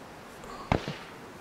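Two distant gunshots in the survival video game DayZ, a sharp crack followed shortly by a softer second report, faint against quiet background hiss.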